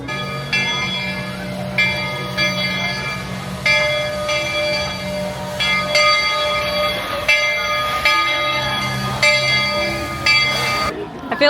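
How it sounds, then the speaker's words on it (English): Steam-style train at Magic Kingdom in Walt Disney World, with a sustained whistle and bell ringing over rolling railway noise in a busy theme park, while people talk nearby. "Oh, listen to the train."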